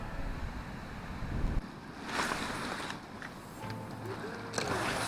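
Wind gusting across a lakeside carp fishing swim, a steady breathy rush with rumbling buffets on the microphone and a few faint higher sounds in the background.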